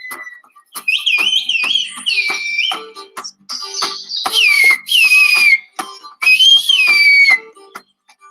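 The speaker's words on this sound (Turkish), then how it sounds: "Ordu'dan Giresun'a, Gümüşhane'den Trabzon'a kadar geniş bir coğrafyada konuşulan ıslık dili" Black Sea Turkish whistled language, sharp melodic whistles rising and falling in a string of short phrases with brief gaps, clear and close against a quiet background.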